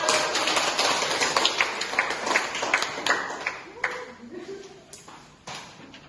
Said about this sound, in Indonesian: Terima kasih tepuk tangan untuk Sonia